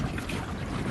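Steady wind rushing past a kayak sailing on open water along a channel in North Carolina, a constant breathy roar with some microphone buffeting and no voices.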